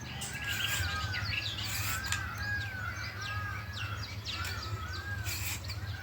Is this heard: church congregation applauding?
no